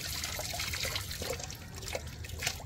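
Water runs and splashes steadily over two crunchy guavas being washed thoroughly, a continuous close trickle with no talk.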